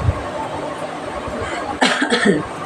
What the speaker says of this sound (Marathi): थोडासा खोकला आहे